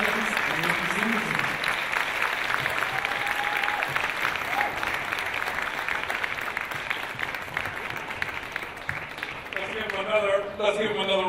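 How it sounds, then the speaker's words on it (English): Long, sustained applause from an audience for a moderator and social justice panel at an MLK event in San Francisco, the clapping swelling near the end as a voice begins speaking over it. "Let's give him another round of applause for Mr. Letson, our moderator and our Grade A Social Justice panel"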